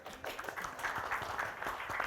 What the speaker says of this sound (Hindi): उनके लिए ज़रा तालियां बजाओ यार